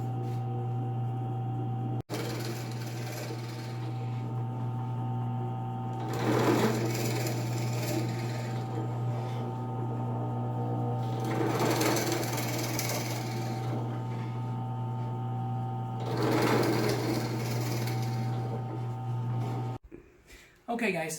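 A drill bores peg holes through pine boards for a penny hockey board, a steady droning motor hum running throughout with three louder, rougher bursts as the bit bites into the wood, then cutting off near the end.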